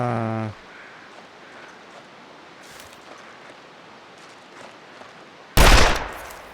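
A single loud rifle shot cracks out near the end during a hunting video game, following a long quiet stretch of faint ambient noise after a brief tonal sound at the start.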